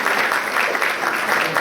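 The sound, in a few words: church congregation clapping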